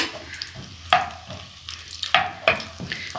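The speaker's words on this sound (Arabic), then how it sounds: "الدهون بتاعتي سايحت اهي كلها، وهنزل عليها بمعلقه السمنه البلدي كده" Ghee and rendered fat sizzle in a pan as kidneys are fried, a soft close crackle with sharper bursts and stirring scrapes at intervals.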